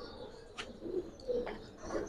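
Old-breed Giribaz pigeons coo softly in short, low bursts, three or four murmuring calls spaced apart, quiet and nearby with a few faint sharper sounds between.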